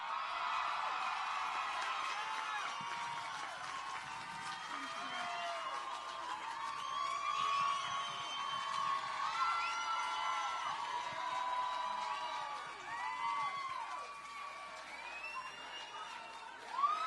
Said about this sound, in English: please, please, please give a warm round of applause for Veronica Escobar.